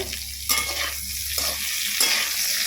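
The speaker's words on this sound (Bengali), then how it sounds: "ফুলকপিগুলো খুব সুন্দর করে নেড়ে চেড়ে হালকা বাদামি কালার করে" Loud, close sizzling of cauliflower frying in oil, with brief stirring and scraping bursts at intervals; no voices.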